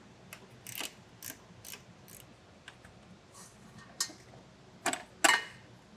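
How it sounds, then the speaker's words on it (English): A 10mm ratcheting wrench turns bolts off a bracket during a hidden trailer hitch install on a 2016 Toyota, giving quiet, close, irregular ratchet clicks in short bursts with a few sharper clacks. "I'm going to use a 10mm ratcheting wrench and get 2 bolts off of the bracket"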